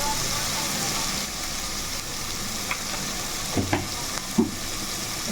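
A pan of green chicken pulao with turmeric and salt is stirred over a steady frying hiss, with a few soft scraping knocks of the spoon near the end.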